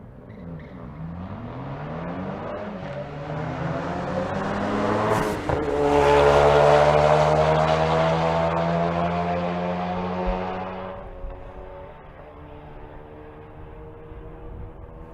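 A stick-shift Ford Focus drag racing down the strip at Bandimere, its engine climbing through the gears with brief breaks between shifts, then building to a loud pass before fading away.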